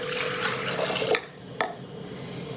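Lukewarm water poured into a bowl for proofing yeast to make challah, a hissing, splashing stream that cuts off with a couple of light clinks from a container.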